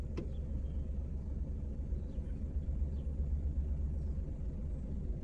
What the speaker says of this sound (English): Ooh, this is a cool truck, baby.